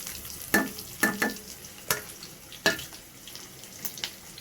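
Onions and vadagam sauté in a pan of popped mustard seeds for fish curry, with a few sharp spatula knocks and scrapes over a gentle frying hiss, close and moderately quiet, no voices.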